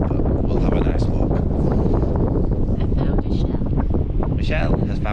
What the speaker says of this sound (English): it is a bit windy still, as you can probably hear on the camera